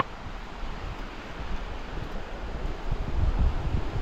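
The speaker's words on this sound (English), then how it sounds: "Oh, that breeze is nice. The breeze is actually warm." Warm breeze blowing near a trail bridge over fairly deep water, a steady broadband whoosh with gusts buffeting the microphone, growing louder toward the end.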